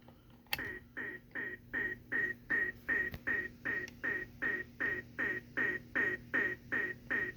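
Alternate detecting sound of a Ghostbusters K.U.D. meter prop, a steady run of about fourteen evenly spaced electronic chirps that pulse rhythmically, close and clear over a low hum.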